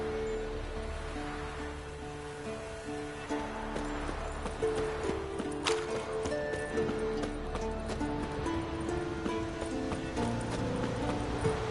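Roach, Geralt's horse in The Witcher 3, clip-clops along at a steady walk, hooves thudding close under a constant bed of game music and ambience.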